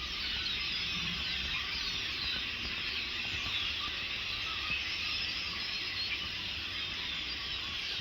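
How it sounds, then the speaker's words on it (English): Hundreds of blackbirds call together from a tree, a loud, continuous, dense chatter of shrill squeaks and whistles that holds steady with no gaps throughout. "Hundreds, 300 or more blackbirds."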